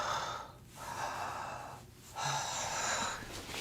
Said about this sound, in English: basically you just take a few deep belly breaths